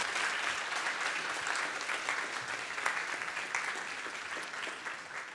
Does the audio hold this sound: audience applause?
yes